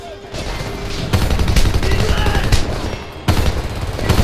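Sustained gunfire in the Homefront video game, dense overlapping automatic bursts and shots packed together, loud and close throughout with a couple of sharper heavy blasts.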